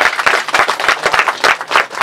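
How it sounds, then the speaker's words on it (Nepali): Guests at a Christian wedding ceremony clap together in a quick, regular rhythm, loud and close, each beat sharp and evenly spaced with no speech. "ल ताली बजाइदिनु।"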